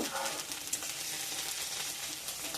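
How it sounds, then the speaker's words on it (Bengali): Onion and ginger-garlic paste stirred together in a hot pan while cooking a pointed gourd curry, a continuous close frying hiss with light spatula scrapes and no talking. "আদা রসুন বাটাটা দিয়ে পেঁয়াজের সাথে একসাথে একটু নাড়াচাড়া করে নেব"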